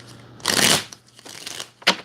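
A deck of tarot cards is shuffled by hand at close range, one sharp riffling burst followed by softer rustles and a final quick snap of cards.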